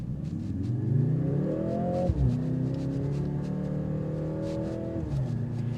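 A 2025 Mercedes GLC AMG 63 S E Performance accelerates hard, its engine note climbing steadily, dropping briefly at a gear change, then rising again before a second shift, heard close and loud without talk.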